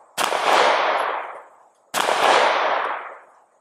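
Two loud, close pistol shots from a Springfield Armory Hellcat Pro Comp OSP at a shooting range, each a sharp crack with a decaying ring, spaced nearly two seconds apart.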